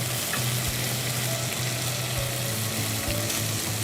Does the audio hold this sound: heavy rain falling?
no